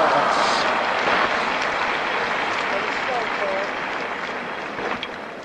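Tennis crowd applauding at a women's match, a steady dense patter of clapping that gradually fades, with faint voices mixed in.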